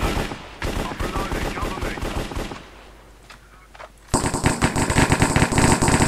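Rapid automatic gunfire in the Minecraft Cops & Crims game mode, loud bursts of rattling shots that stop for a short lull, then resume in a dense, continuous stream.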